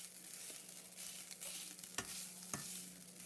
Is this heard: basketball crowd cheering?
no